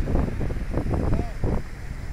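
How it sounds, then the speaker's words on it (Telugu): River water rushes steadily below mountains in the Manali area, a broad, continuous wash with wind noise, heard under people talking. "అసలు ఆ వాటర్ సౌండ్ చూడండి"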